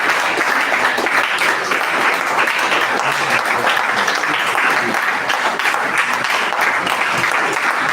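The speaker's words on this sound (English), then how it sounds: "Please don't stop clapping." An audience claps after a lecture, sustained dense applause from many hands filling the room at steady loudness, with faint voices beneath.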